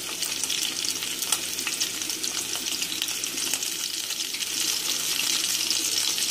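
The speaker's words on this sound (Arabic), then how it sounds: "وهحمره كده في السمن شويه كده لحد ما ياخد لون" Offal (tripe, heart, tongue and liver) browns in hot ghee, giving a steady, close, crackling sizzle that stays unbroken and intensifies slightly toward the end.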